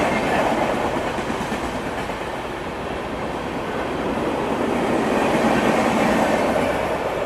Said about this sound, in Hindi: तेलंगाना एक्सप्रेस जो है वो आ रही है, ओवरटेक कर रही है अपने को।